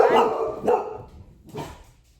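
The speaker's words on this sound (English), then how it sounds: "if I heard the dog barking, they definitely did." A dog barks nearby in two or three sharp, resonant bursts, separated by short pauses, the last one slightly weaker.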